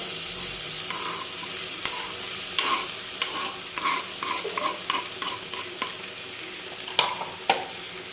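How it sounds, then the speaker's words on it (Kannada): Chopped tomatoes go into oil with golden-browned onions for a village-style tomato curry, giving a steady pan sizzle broken by repeated spatula stirs and scrapes, close and without talk. "ಆನಂತರ ಟೊಮೊಟೊನು ಸಾಫ್ಟ್ ಆಗೋವರೆಗೂ ಹುರ್ಕೋಬೇಕು"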